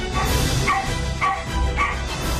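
A small dog barks repeatedly in a steady series of sharp, loud yaps close by, with no voices over it.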